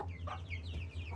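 Baby chicks in a brooder box give quick, high-pitched peeping chirps in a short, soft burst, heard fairly close with a faint low hum underneath.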